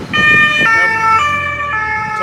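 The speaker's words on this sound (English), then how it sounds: "Told you, sirens." Emergency vehicle siren wailing on a Paris street, a loud close two-tone pattern switching pitch several times in quick succession.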